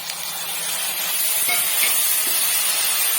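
Onion, garlic and tomato sautéing in a pan for a cashew gravy give off a steady, loud, close sizzling hiss with faint clinks underneath.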